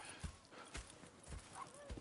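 Horse hooves clip-clopping in the Red Dead Redemption 2 video game, a faint, fairly regular series of hoofbeats in an outdoor camp with low background noise.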